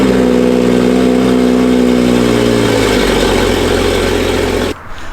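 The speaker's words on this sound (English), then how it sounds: "let's get a start now that we've got the exhaust back on" A car engine with its stock exhaust restored after a turndown pipe was removed runs loud and steady, its low drone shifting pitch partway through before cutting off abruptly near the end.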